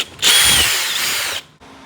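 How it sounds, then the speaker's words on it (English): Power drill driving a 1/4 inch bit through a Can-Am Maverick fender flare mount, one loud steady whine lasting just over a second with a slight pitch sag, then stopping into quiet. "1/4 inch drill bit, and I can hold it flush and drill."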